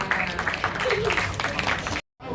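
A short burst of applause at a press conference for the film Sore: Istri dari Masa Depan, scattered close clapping mixed with talk before cutting off abruptly.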